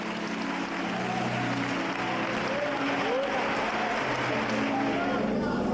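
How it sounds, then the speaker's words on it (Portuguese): A large church congregation applauds steadily and continuously, a dense wash of clapping with some voices mixed in, filling the whole stretch. "dê a Cristo uma linda salva de palmas"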